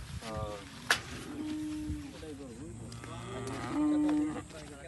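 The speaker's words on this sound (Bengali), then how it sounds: "ভাই তাহলে দেখেন গরু এটাই।" A cow moos in several drawn-out, fairly close calls, set against faint background noise and occasional human voices.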